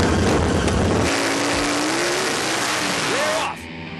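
Custom rigid drag motorcycles with no suspension launch in a drag race, a loud roaring engine blast that climbs in pitch as they accelerate, then drops away abruptly, with a commentator's voice over the noise.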